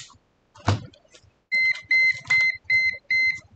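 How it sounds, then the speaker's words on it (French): A laptop motherboard gives a run of five short, high beeps at an even pace, after a few faint clicks and a brief thump. "Alors, Hector, comment on fait pour désactiver le bip, bip, bip"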